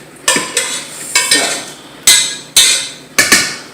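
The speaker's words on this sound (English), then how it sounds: "Give that a good stir." Six sharp metallic clanks of a utensil knocking and scraping inside a big pot of pasta being stirred for baked ziti, each strike loud and close, spaced irregularly about half a second apart, with no voices.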